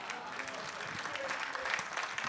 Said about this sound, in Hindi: आप जोरदार तालियां बजा सकते हैं।